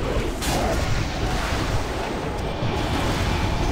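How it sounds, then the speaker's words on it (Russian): A trap exploding during a World of Warcraft raid, a deep rumbling blast with sustained low booming that fills the scene, loud and dense, with no clear voices. "Она взрывается очень быстро."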